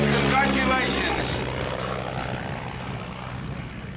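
Propeller aircraft engine droning steadily at a 1986 barnstormers flying circus air show in Cranfield while a wing walker rides the plane, a continuous loud hum that slowly fades, with a voice talking over it.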